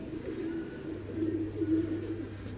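Soft, low cooing from a favourite pet pigeon kept by a fancier in Allahabad, a steady murmur of repeated coos running through the whole stretch at close range with no talking.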